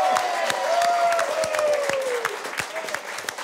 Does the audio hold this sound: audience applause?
yes